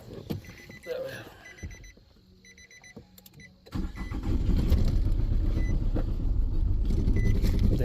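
A car engine starts after a chiming warning tone, cranking then catching into a steady, close idle rumble while a voice talks.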